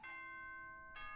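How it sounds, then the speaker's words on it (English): A ding-dong announcement chime from the game Danganronpa 2 plays two bright, sustained tones in sequence, clear and alone with no talking. "we have a ding dong bing bong."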